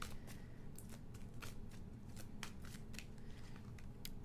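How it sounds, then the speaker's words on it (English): Tarot cards shuffled steadily for a long stretch, a dense run of soft riffling slaps and flicks close to the mic, with no talking. "I just felt like I needed to shuffle a ton for your pile"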